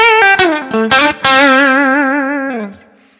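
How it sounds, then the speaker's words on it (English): Distorted electric guitar notes followed by a long sustained note with a wide, fast, aggressive vibrato that fades out at the end. "a really, really wide and still quite aggressive vibrato, that tends to be what I refer to as a rock vibrato"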